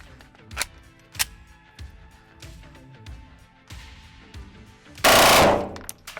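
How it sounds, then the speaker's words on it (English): A Glock 44 pistol fires .22 LR rounds from a 10-round magazine at an indoor shooting range, giving a series of sharp separate cracks at uneven intervals, closing with a louder, longer burst. "A Glock 44 shooting a 10-round mag of 22 LR"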